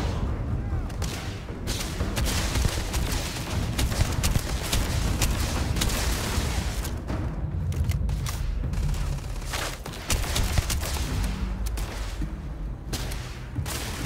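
Sustained weapon gunfire in the Starfield video game, loud, dense bursts of shots and booms running almost without pause through the whole stretch, with a voice talking over it.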